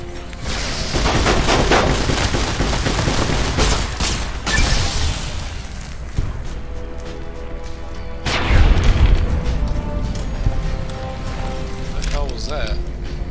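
Riot shotgun firing in the video game Fallout: New Vegas, a series of loud, sharp booming blasts with mechanical clacks between them, spread across the clip, under a player's talk.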